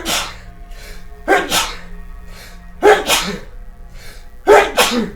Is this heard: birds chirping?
no